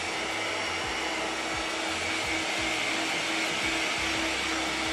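A hair dryer runs nonstop, drying paint on an ABS RC car body, a close, loud airy roar with a pulsing low motor drone and no pauses.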